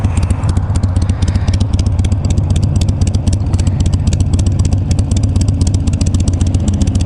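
A Harley Sportster motorcycle fitted with Screaming Eagle 2 pipes runs loud and close, a continuous rapid, rough engine rumble with dense rhythmic exhaust pulses and no speech.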